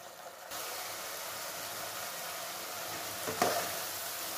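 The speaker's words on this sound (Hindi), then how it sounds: "हमारे लहसुन का मसाला एकदम अच्छी तरह पक गया है।" Garlic masala frying in oil for a sabji: a steady, moderately quiet sizzle that continues throughout, with a brief scrape or clink of stirring near the end.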